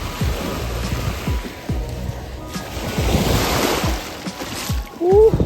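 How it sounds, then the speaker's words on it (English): Beach waves and surf on a rough, murky day roll in with a washing roar that swells and recedes, close by, mixed with wind buffeting the microphone and a brief voice near the end. "Yeah, we're in the beach."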